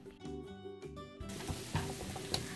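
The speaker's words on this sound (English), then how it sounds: "I put the onions and mushrooms, I put some extra virgin olive oil on there and just kind of slowly saute them" Onions and mushrooms sautéing in extra virgin olive oil on a griddle, a quiet hiss that starts partway through after a brief musical opening and carries on with a few soft spatula taps.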